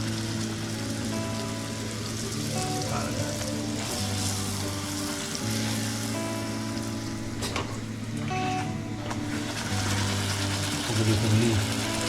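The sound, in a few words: puri frying in hot oil in a kadhai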